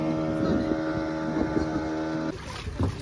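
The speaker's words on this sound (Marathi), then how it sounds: "तर ही आहे आपली बोट स्कूबाची" Scuba diving motorboat at Malvan beach, its engine droning steadily with a harmonic hum and wind buffeting the microphone, the motor easing off near the end.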